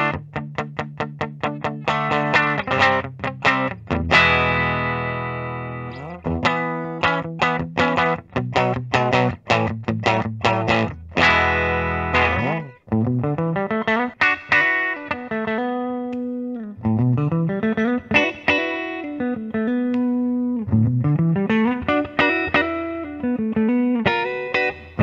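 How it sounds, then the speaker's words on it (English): A 2003 Gibson Memphis ES-335 electric guitar played through its bridge pickup with distortion, heard alone as loud, sustained chords and riffs with rhythmic strums and note bends running continuously throughout. "And the bridge pickup should sound pretty good with some distortion."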